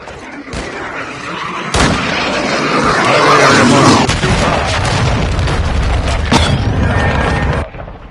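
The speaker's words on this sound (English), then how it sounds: "Hostiles launched a cruise missile." Cruise missile blast in a Modern Warfare military video game, a loud booming explosion with sustained rumbling roar and scattered sharp cracks over several seconds.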